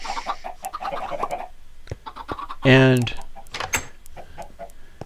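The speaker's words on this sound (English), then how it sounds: "those chickens should be confined" Backyard chickens cluck nearby, with scattered soft clucks and one loud, drawn-out squawk in the middle, while someone talks quietly over them.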